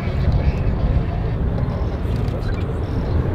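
A Bücker 131 biplane at the Gap-Tallard air display drones steadily overhead with a continuous engine hum, under French commentary.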